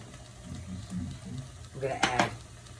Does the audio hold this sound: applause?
no